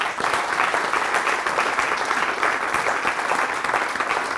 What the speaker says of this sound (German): Ich bitte Sie um einen herzlichen Applaus.